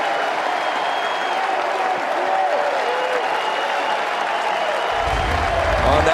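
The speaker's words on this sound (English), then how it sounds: "That's one way to get this UNC crowd on their feet." A University of North Carolina crowd at a college baseball super regional game cheers and applauds a base hit, a loud, sustained roar of many voices and clapping filling the whole stretch, with a low rumble joining near the end.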